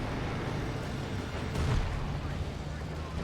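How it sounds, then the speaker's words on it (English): Booming artillery fire and explosions from a Company of Heroes 2 battle, a continuous low rumble with a heavier blast about halfway through, mixed with a voice talking over it. "More artillery fire here, more death, more explosions."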